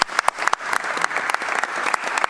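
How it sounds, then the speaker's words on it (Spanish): An audience at a climate parliament session in the Santa Fe Senate gives panelists steady, dense applause, many hands clapping at close range without a break. "un fuerte aplauso para estos panelistas"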